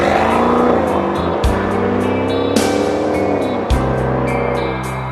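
Powerful Maserati Quattroporte twin-turbo V8 engine roaring close by, revving up with two brief drops as it shifts gears, then climbing again.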